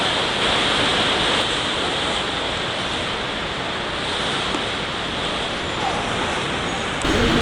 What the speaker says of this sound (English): Yes, that's rain you can hear on the terminal roof.